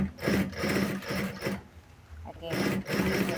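A sewing machine basts fabric for a sling bag in quick rhythmic bursts that stop and restart, with a pause in the middle, while a voice talks over the stitching.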